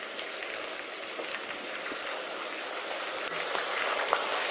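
Continuous hissing and crackling of food deep-frying in hot oil, with scattered small pops, steady and fairly quiet.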